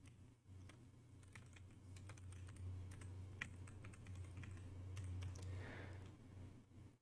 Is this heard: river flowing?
no